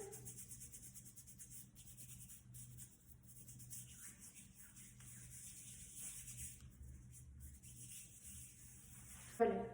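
Hands rubbed together with about 3 ml of antiseptic during hand hygiene before a clinical eye, nose and ear drop procedure; a soft, steady close-up rubbing and swishing that lasts throughout, ending in a brief louder knock.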